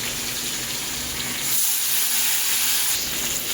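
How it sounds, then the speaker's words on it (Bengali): Chopped tomato goes into hot mustard oil with fried hilsa and black cumin, giving a steady sizzling hiss that swells louder partway through and keeps going with no voices. "আর এখানে যেই একটুখানি টমেটো কেটে রেখেছিলাম সেটাও আমি তেলের মধ্যে দিয়ে দেব।"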